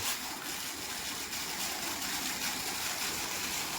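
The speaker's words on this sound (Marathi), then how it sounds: "इथं गळतंय पाणी" Leaking water gushes and trickles in a constant hissing stream nearby, unbroken for the whole stretch, with no speech over it.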